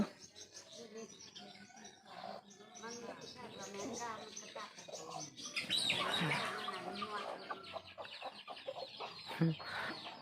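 Chickens cluck and chirp close by in a steady stream of short calls, with a voice also heard now and then.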